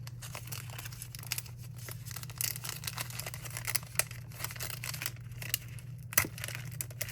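Scissors snipping a flower cluster out of paper for a dot grid journal spread, close crisp cuts and crinkling paper rustles in an irregular run, with one sharper snip near the end.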